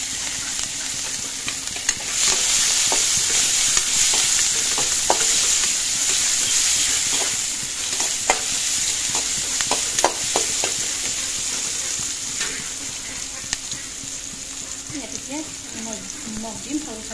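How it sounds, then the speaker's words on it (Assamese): Onions frying in oil left over from frying fish, a steady close sizzle with occasional stirring clicks and scrapes, a voice speaking briefly near the end. "সেই তেলতে পিঁয়াজখিনি দি দিছোঁ।"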